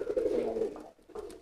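A male pigeon coos loudly in courtship display, a deep throaty rolling call that swells, breaks off briefly, then resumes, close and clear against a quiet background.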